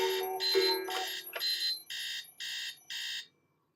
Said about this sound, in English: SpongeBob's alarm woke him suddenly from his sweet dreams.